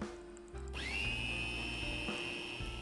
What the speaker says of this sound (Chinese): 然后全部倒入绞肉机里，再盖上打成汁